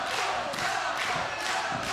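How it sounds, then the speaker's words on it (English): A virtual arena crowd in the wrestling video game Super Shogun Wrestling chants for a wrestler, a dense, steady roar with rhythmic swells roughly every half second, filling the whole stretch without pause. "Crowd chanting for Chuckles right now."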